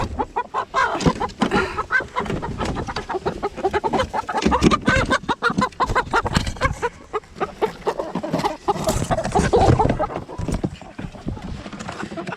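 Young chicks being moved to a big coop give loud, busy clucking and peeping close by, continuing throughout with people talking over them.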